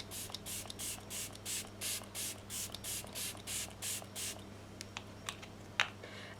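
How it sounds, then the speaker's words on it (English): Morphe Luminous makeup setting spray mists out in about a dozen short, even hissing bursts in a fast regular rhythm, close to the microphone, followed by a few faint clicks and taps. "So lastly I'm gonna use the Morphe Luminous setting spray"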